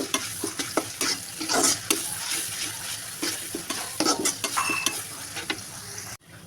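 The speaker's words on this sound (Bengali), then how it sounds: "হালকা বাদামি কালার করে নেব পেঁয়াজটা" Onions sizzle in hot oil in a pan for a cabbage and chicken dish, with repeated scraping stirs of a spoon at an irregular rhythm and a steady frying hiss underneath.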